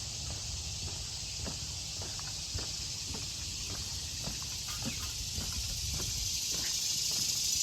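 Cicadas drone in a steady, loud high-pitched buzz across a botanical garden trail, continuous throughout, with faint footsteps crunching beneath.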